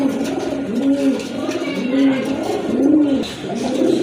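Pigeons kept for sale, including white Shirtin pigeons, cooing close by in a slow, repeated series of soft, throaty calls, with faint voices in the background.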